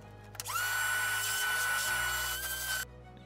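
Power drill boring holes into a 75mm model rocket body tube, a sharp high whine starting abruptly, holding steady for about two seconds, then cutting off, close and loud over a low background hum.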